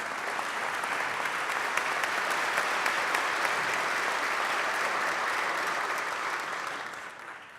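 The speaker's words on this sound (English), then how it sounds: "let's give a nice round of applause for the lady in charge" A large audience in the Senate chamber breaks into sustained, dense applause for the lady in charge, holding steady throughout before easing off near the end.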